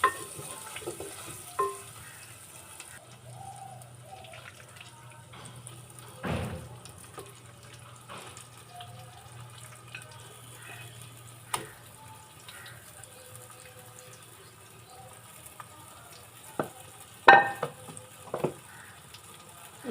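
Chicken pieces with salt and turmeric fry in a pot for chicken handi, a soft, low sizzle broken by a few sharp thumps and scrapes as the meat is tipped in and stirred.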